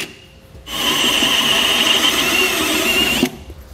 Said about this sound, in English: So we're gonna drill these out just like we did the rear ones.